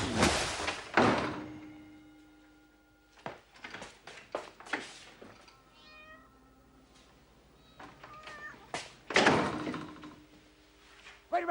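Heavy door thuds and slams sound near a truck, sharp loud bangs at the start and again near the end, with a cat meowing and scattered knocks between.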